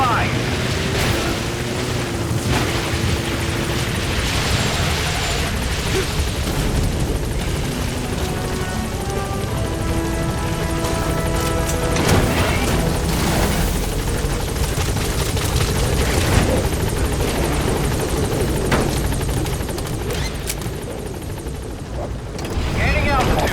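The Pequod helicopter in the video game Metal Gear Solid V lands and takes off. A loud, continuous rotor and turbine roar runs throughout with rumbling swells, and radio voices speak over it.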